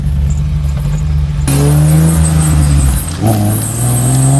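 A BMW E30 makes a loud noise from the rear: a steady, heavy engine drone with a rising harsh whir as it accelerates, close and loud throughout.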